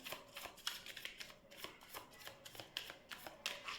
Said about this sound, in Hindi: one more shuffle and then we will go